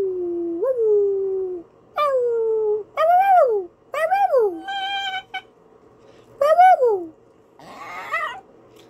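A puppy whimpers and howls in a series of rising, wavering cries with short pauses between them, close and loud, with no talking.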